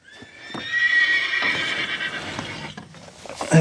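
A horse whinnies loudly and shrilly near the mic, with a few hoof clops and thumps around it and a sharp noise at the end.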